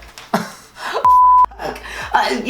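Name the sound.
phone notification sound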